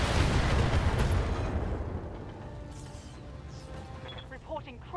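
A mech in the Battletech video game unloading all its weapons at once, a heavy booming barrage that rolls off into a fading rumble, followed by mechanical whirs and faint electronic tones.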